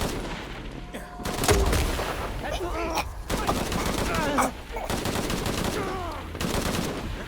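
Enemy gunfire in Shadow of the Tomb Raider: loud rapid bursts of automatic fire come in several volleys with brief pauses between them, and voices talk over the shooting.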